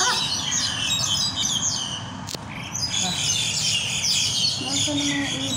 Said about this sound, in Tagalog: May ibon na nag-aaway.